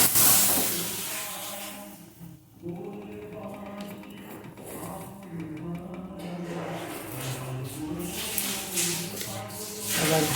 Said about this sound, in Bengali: এই জল ফুটে গেছে